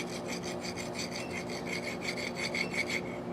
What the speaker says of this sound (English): get your rasp out, use the file side, I guess, or whatever, and you can just kind of go over it